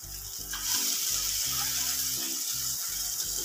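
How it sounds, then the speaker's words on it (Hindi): Brinjal bharta cooking in a covered pan on a low flame, giving a steady, close hiss of gentle sizzling over a constant low electrical hum, with no talking. "अब अच्छे से मिक्स कर कर ले लेंगे और धीमी आंच पर इसे 2 मिनट के लिए ढक के रखते हैं।"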